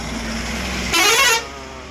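A loaded lorry departs with a steady low engine drone, then a brief loud horn blast rises over it before the rumble settles again.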